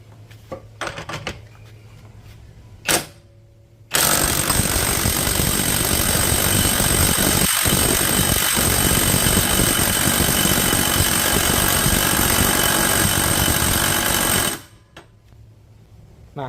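A Dongcheng DCPB488Z cordless brushless impact wrench, set to 400 Nm on its medium setting, tightens with a loud, close, continuous hammering rattle lasting about ten seconds. Quiet handling clicks come before it and after.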